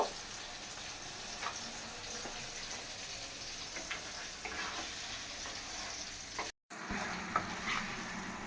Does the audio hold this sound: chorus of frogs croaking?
no